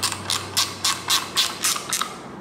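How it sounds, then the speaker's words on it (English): A wrench ratchets repeatedly on the top bolts of a Ford 302 small-block timing cover, about eight crisp clicking bursts in an even rhythm, close and clear. "And then we can tighten the top bolts as well"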